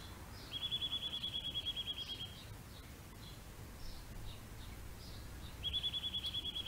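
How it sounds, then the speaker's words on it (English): Faint bird calls chirp at intervals, with two longer high trilling buzzes at the start and end over a low, quiet background hum. "Hear the birds singing."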